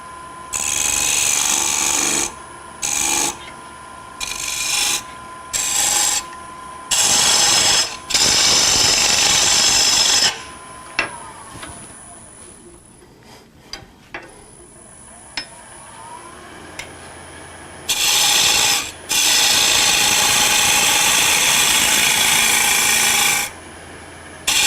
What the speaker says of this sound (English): One more little cut down there.